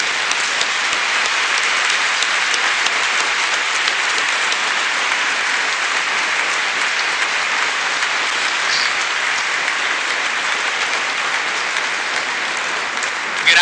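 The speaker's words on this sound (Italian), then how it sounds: "Meritate un applauso grande." A large congregation applauds steadily inside a church at the closing of the 28th diocesan synod of Adria-Rovigo, a dense, even wash of clapping sustained throughout without pause.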